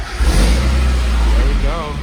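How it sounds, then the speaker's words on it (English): A Mazda Miata engine cranks and fires up, a loud close motor roar with a brief rising rev near the end, steady throughout the short stretch. "make sure it's not in gear, and then try to start it"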